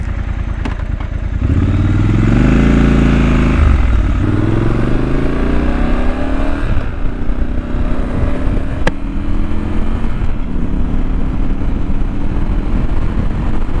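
Triumph Scrambler 1200 XE motorcycle from 2020 being ridden, loud close engine revving up through the gears with rising and falling pitch and wind noise, no talking.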